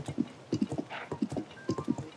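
Horse hooves clip-clop in Zelda: Tears of the Kingdom, a close, steady walking rhythm of soft, muffled thuds in pairs and triplets, heard alone without talk.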